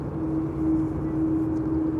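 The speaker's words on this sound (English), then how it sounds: "German Airways, Embraer 190, arriving from Prague, 1 hour and 5 minutes underway" A German Airways Embraer 190 jet arriving from Prague hums steadily during landing at Amsterdam Schiphol, a distant low drone with a faint tonal whine.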